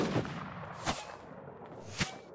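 Gunfire in the Infestation The New Z video game: three sharp single shots spaced about a second apart, fairly distant and faint against background noise.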